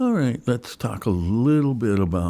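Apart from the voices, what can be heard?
No everyday noise stands out behind the speech.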